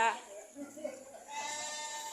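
Goats and sheep brought to a market for sale bleat in short calls, one close and loud at the start, then fainter overlapping cries, with people talking in the background.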